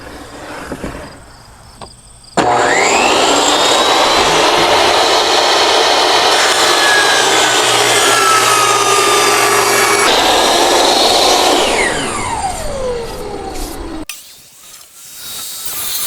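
A power saw rips 2x4 lumber into 2x2s in one long continuous cut, a loud, steady whining buzz of blade through wood that holds for about twelve seconds before winding down.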